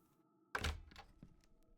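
A door closing in the video game Verge: Lost Chapter: a single dull thunk, fairly faint, followed by a short fading rattle against a quiet hum.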